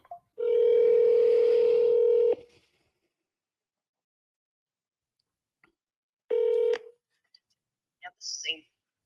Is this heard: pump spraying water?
no